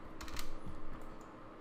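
Typing on a computer keyboard, a soft patter of a few quick key taps over a steady room hiss, faint and close with no talking.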